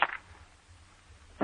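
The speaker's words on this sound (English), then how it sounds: "I'm going to light a match." A match struck as a sound effect in an old-time radio horror drama: a short, loud scratchy burst at the start, a quiet hissing lull, then another sharp flare of friction at the end.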